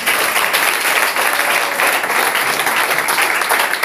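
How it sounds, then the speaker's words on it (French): Church congregation bursts into loud, dense applause, a continuous wash of many hands clapping at once with no pauses, close and full throughout. "Applaudissons pour le Seigneur."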